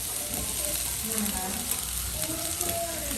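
Sliced onions and mushrooms sizzle steadily in a hot frying pan, a continuous close crackle with occasional stirring scrapes and faint background sounds.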